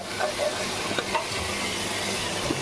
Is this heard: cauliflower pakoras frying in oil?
yes